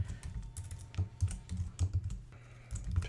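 Someone types text on a computer keyboard close to the mic in quick uneven bursts of clacking keystrokes, with a short pause near the end before the typing starts again.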